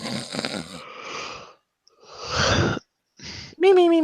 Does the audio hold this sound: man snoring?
yes